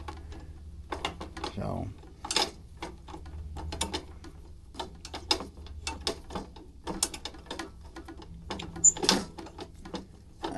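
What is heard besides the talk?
tightening bumpers on Keene 140S drywasher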